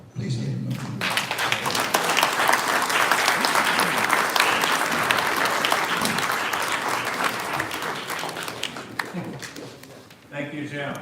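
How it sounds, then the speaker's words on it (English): Sustained audience applause for a speaker at a public talk on autism fills about ten seconds, dense and steady before thinning out, with voices briefly audible at the start and end. "Please give him a applause."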